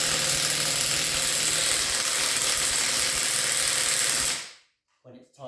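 A Makita DTW190 impact wrench works on a car wheel lug nut. It gives a loud, continuous rattling hammer burst for about four seconds, then cuts off. A few faint clicks follow.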